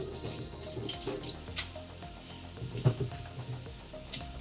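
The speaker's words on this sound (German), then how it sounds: "Algen sind aufgeweicht. Ich tue sie abspülen." Soaked seaweed rinsed under a running kitchen tap for a Korean soup, a steady hiss of flowing water with a few soft splashes and clinks, close and alone.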